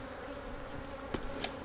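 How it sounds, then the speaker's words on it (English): Honey bees buzz after the top box of a hive fell off and many bees hit the ground, a steady, faint, dense drone with a couple of brief louder passes close by. "a lot of bees hit the ground there"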